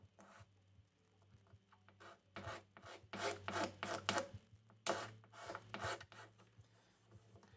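A guitar fret is scraped with a file on a repair bench, giving repeated rasping strokes of uneven length, close and fairly loud, bursting in clusters with short pauses over a steady low hum.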